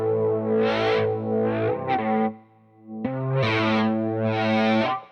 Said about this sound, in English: Okay, so that's a wah. But I can also make it affect the effect.